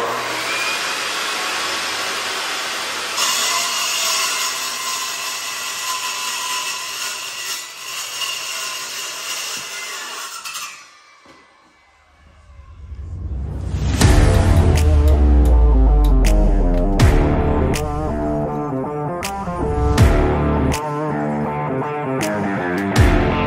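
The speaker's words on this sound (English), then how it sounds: "take it in the shop, cut it with the sawzall" A sawzall reciprocating saw cuts a metal suspension part in a shop for a cabover truck build, first a harsh steady buzzing cut, then a pause and clanks and knocks as pieces are handled, with no speech.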